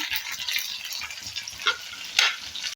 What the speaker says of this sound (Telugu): ఇప్పుడు మంచిగా ఎల్లిపాయ, కరివేపాకు మంచిగా మాడనిద్దాము